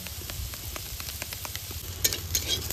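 Mushrooms sautéing in a pan with a continuous close sizzle, brisk stirring scrapes and a couple of sharper clinks near the end, while a low hum runs underneath and no one speaks.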